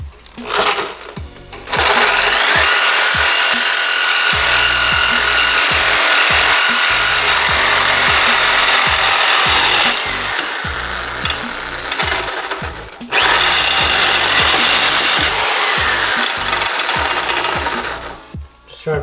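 A loud power saw cuts through the exhaust pipes of a Yamaha Virago XV920 cafe racer in long continuous runs of about eight and five seconds, with a short break between them.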